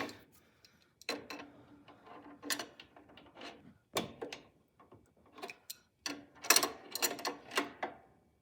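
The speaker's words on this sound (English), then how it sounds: "then you'll want to put the locking nut back on with the locking washer over here" Small metallic clicks, ticks and rattles come in bursts at close range as a locking nut and washer are hand-tightened onto the conveyor assembly of an Elite Series dough sheeter, with quiet gaps between, no talking.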